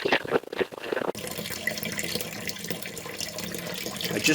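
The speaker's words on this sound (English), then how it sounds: "I just turned the water on here." Water runs steadily from a tap in a continuous hiss and splash, fairly faint, after a few brief clatters at the start.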